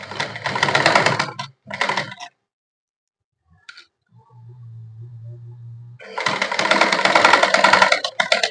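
A sewing machine runs in bursts while stitching a straight line, loud rapid mechanical chatter at the start and again at the end, separated by a quiet gap with a low steady hum, and no one speaks.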